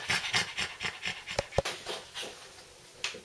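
A pug pants close by in quick, rhythmic huffs that keep going steadily, with a brief whimper-like catch in the middle.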